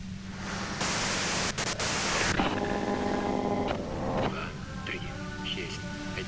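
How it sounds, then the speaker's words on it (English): Broadband static hiss from a device in the video game Disco Elysium, a steady loud wash of white noise filling the clip with a tonal hum and game sounds layered over it. "you can do it through the white noise."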